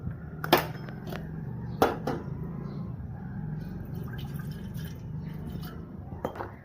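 Water is poured into a pot for tea in a home kitchen, with a couple of sharp clinks of metal or glass and a steady, soft trickling and dripping.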